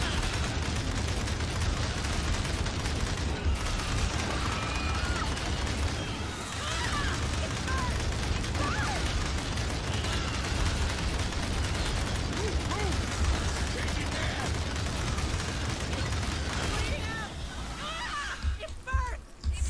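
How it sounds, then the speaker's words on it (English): Sustained automatic gunfire from marines laying down suppressive fire in the Aliens: Dark Descent video game, a dense, continuous rattle of shots with mechanical clatter throughout, with voices over it. "They're headed our way. Suppressive fire!"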